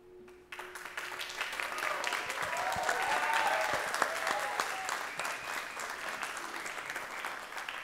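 Sustained audience applause at a Costa Rican televised music show, rising from a brief quiet start into dense, steady clapping that holds loud throughout, with a few faint voices and whistles mixed in.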